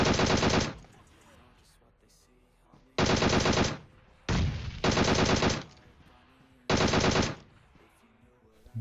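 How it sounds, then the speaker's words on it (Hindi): Bursts of rapid automatic gunfire in PUBG, four loud volleys separated by quieter gaps with faint background noise. "दोबारा से यहां पे मैं गोलियां बर्बाद कर रहा हूं"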